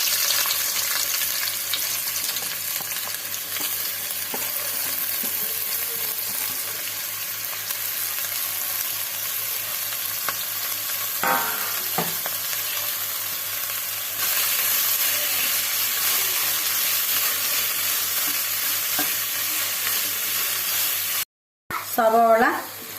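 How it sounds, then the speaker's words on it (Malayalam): Sliced onions dropped into hot coconut oil fry with a steady hiss and sizzle for a Kerala-style beef liver dish, continuous and close, with a few faint clinks and a brief dropout near the end. "ചൂടായ വെളിച്ചെണ്ണയിലേക്ക് അരിഞ്ഞു വെച്ച സവാള ഇട്ട് കൊടുക്കാം"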